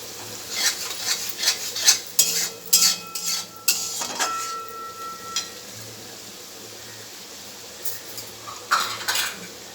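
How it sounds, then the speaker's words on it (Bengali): Utensil scraping and clinking against a pan as potato curry (aloo dum) is stirred, in irregular bursts with a faint background hum. "আর আমি একবার লেড়ে দেবো।"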